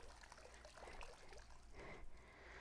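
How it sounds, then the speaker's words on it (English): Water draining out of a Kokido XtroJet 220 battery-powered pool vacuum lifted from the pool, a faint continuous trickle and dribble with small splashes. "Just let some of that water drain out of it."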